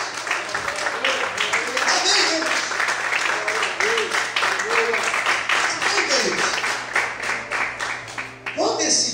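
Church congregation clapping and praising together during a sermon, dense rhythmic applause mixed with voices and shouts of praise, loud and sustained throughout.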